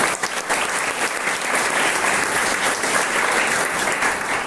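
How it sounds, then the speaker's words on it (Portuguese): A church congregation applauds in a worship service, a dense, steady wash of clapping from many hands that holds at an even loudness throughout, with no voice rising above it. "Uma grande salva de palmas ao Senhor."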